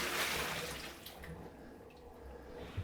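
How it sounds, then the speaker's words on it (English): Water drains out of a winemaking tank after rinsing, a quiet rushing, gurgling flow that swells briefly then continues softly. "Then once I'm done, I drain the water off."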